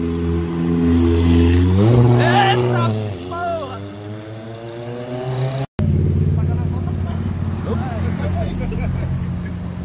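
A car revs hard on a city avenue, engine pitch climbing sharply in a loud accelerating pull, then a second stretch of rough engine noise after a brief dropout, with people talking over it.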